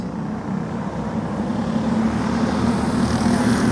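R-Box race cars roll toward the green flag at Thunder Hill Speedway, a steady low engine drone that swells slightly as the pack approaches, with no voices.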